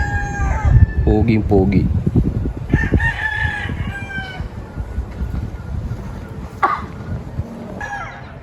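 Golden Ball gamecock, a PSG straight-comb rooster on a Tagaytay farm, crows close by in a long drawn call near the start with another crow later, over farm noise while someone talks.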